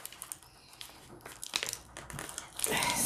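A Danish MRE muesli package being opened with bursts of crinkling, tearing plastic, quiet and close, building to a louder rustle at the end.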